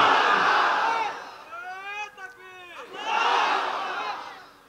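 A large crowd at an outdoor Islamic sermon gathering in Jhenaidah roars the takbir chant twice in unison, loud swelling waves of voices separated by a single voice calling out between them.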